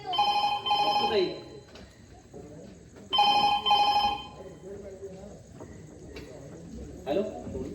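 A home telephone rings in repeated electronic bursts, three rings spaced a few seconds apart, moderately loud and close, with quiet room sound and faint voices between them.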